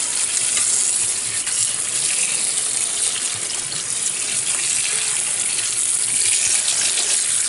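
Tap water runs steadily over freshly picked garden blackberries being rinsed clean of ice particles, a loud, close, continuous splashing hiss with no talk.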